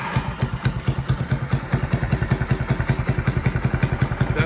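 A mini kids' Ford Falcon XR8 ute build fires up for the first time on a newly fabricated exhaust, its small engine settling into a loud, steady, rapid thumping putter close by with no talk.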